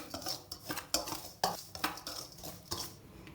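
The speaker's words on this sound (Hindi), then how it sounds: "और इनको हम अच्छे तरीके से मिक्स कर लेते हैं।" A spoon scrapes and clinks against a bowl in quick, uneven strokes as thick spices are stirred and mixed into a fish marinade, close up.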